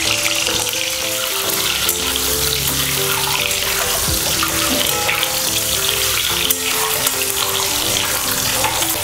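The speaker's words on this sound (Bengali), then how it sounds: "ডিমটা আমি হালকা করে জাস্ট তেলে একটু নাড়িয়ে নিলাম" Eggs frying lightly in oil while being stirred, a steady close sizzle running throughout with soft scraping of the spoon and faint harmonic clatter in the background, no talking.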